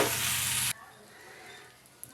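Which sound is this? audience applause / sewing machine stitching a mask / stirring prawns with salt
stirring prawns with salt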